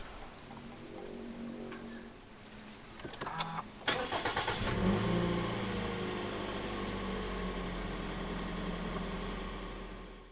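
A few soft clicks, then the push-button-started engine of a 2015 Toyota Vios 1.5 J cranks and catches, settling into a steady idle rumble that continues to the end.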